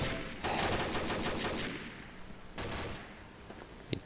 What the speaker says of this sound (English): I have no idea who's firing that G36.